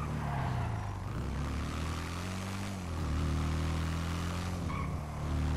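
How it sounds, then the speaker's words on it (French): A motorcycle engine in the video game GTA 5 drones steadily, its pitch rising and dipping as it revs, heard loud and close without any talk. "J'adore le bruit de cette moto, elle est vraiment trop cool."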